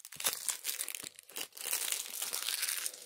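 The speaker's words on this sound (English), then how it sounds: "time to take the cellophane off." Cellophane wrapper on a Marlboro Gold cigarette pack crinkles and tears off in close, quiet rustling bursts lasting a few seconds.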